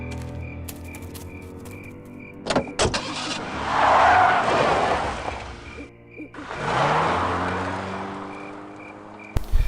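Car in the Full Throttle Remastered video game revving and driving off, engine surging loudly twice with a whine and sharp clunks at the start and end, no talk.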